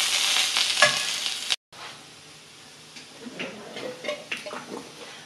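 Dehydrated potatoes fry in a little oil in a pan with a loud, bright crackle that cuts out briefly, then carries on quieter, with scattered pops and stirring scrapes.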